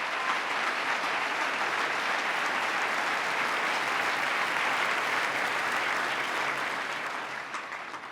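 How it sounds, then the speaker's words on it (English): A large crowd gives steady, sustained applause during the 2018 New York State of the State address. The clapping holds at an even level for about eight seconds, then starts to fade at the end. "Give Akeem a big round of applause."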